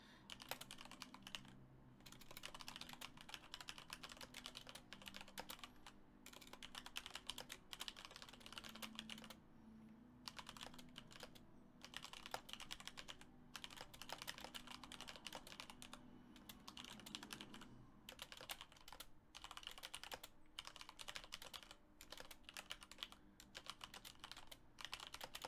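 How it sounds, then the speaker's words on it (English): Typing on a computer keyboard, a long run of quick, close clicking keystrokes in uneven bursts with brief pauses, quiet and alone. "So I'm just typing up a little ping."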